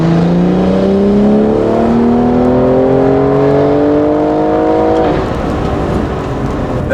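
A BMW M340i fitted with a big turbo pulls hard in 4th gear from about 2,500 rpm, its engine note rising steadily and loudly for about five seconds before easing off into a lower, settling drone.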